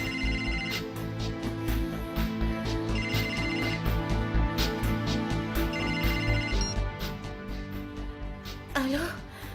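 A telephone rings repeatedly in a dramatic indoor scene, its electronic ringtone pulsing steadily and loudly over a bed of background music while voices talk urgently.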